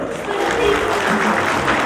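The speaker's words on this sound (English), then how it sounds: "can we also please give a round of applause as we also congratulate the mother of the groom, Miss Corazon Camero" Guests at a wedding reception applaud in honour of the groom's mother, a dense, steady wash of clapping filling the hall, with voices and crowd murmur blended underneath.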